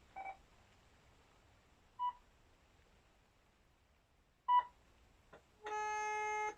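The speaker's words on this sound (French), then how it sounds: "Je récupère une tonalité." Landline telephone on a handset reconnected by its cable: a few short beeps, then a steady dial tone starting near the end, close and clear in a quiet room.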